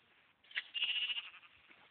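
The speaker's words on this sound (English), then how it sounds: "Eat, sheep, eat." A sheep in a block-building video game bleats once, a bright, wavering digital baa lasting about a second, clear and moderately quiet with no talk over it.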